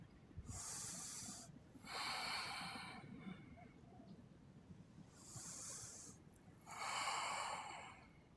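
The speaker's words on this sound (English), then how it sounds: "Make sure you're breathing deeply." Deep, slow breaths during a core-strength yoga exercise, four or five long airy inhales and exhales in a steady rhythm, close and fairly quiet.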